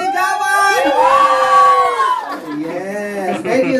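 A small group at a simple birthday celebration shouts and cheers together loudly and close up, with one long sustained yell followed by a brief dip and then more whooping.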